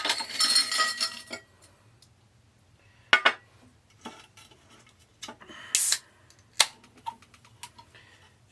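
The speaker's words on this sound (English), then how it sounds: "put a dissolving vitamin supplement into this" A dissolving vitamin supplement is dropped into a sour mango cocktail, giving a few sharp glassy clinks and small knocks with stretches of near silence and a brief noisy fizz-like burst, close up.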